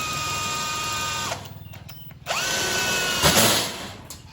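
Power screw gun driving fasteners through metal sheet panels while building a food truck body: a loud whining drill burst, a pause, then a second long run of high motor whine that rises and tails off, with no talk.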